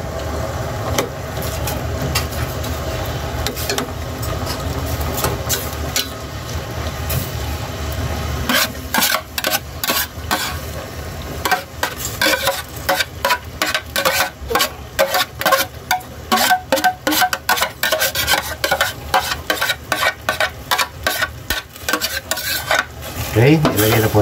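Bamboo shoots tipped into simmering coconut milk in a pot, a soft bubbling bed followed by a long run of rapid scraping and clinking stirs, close and loud, with no voices.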